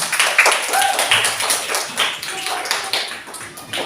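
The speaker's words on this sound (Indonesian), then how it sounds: "Tepuk tangan buat kelompok 6" Classroom of students clapping for a group after its presentation, a scattered patter of hand claps at moderate distance with a little talk mixed in.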